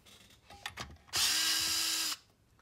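A power drill drives out the screws on the cord storage cover of a Kodak 760H projector. A few small clicks come first, then one loud, steady whir lasting about a second, close up.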